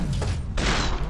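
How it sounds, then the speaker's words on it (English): A grenade blast in the FEAR 2 shooter game, a broad loud burst at about half a second that fills the mix and rumbles on to the end, following a brief earlier thud. "they threw the grenade, I think"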